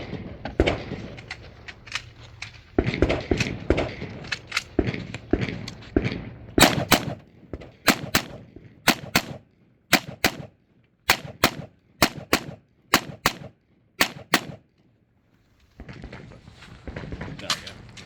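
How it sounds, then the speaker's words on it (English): Rifle shots ring out at an outlaw carbine shooting match at Pinetucky Gun Club in Blythe, Georgia: about a dozen sharp, loud cracks in an uneven rapid string, with busier shooting and background noise early on. "Let's get into the shooting."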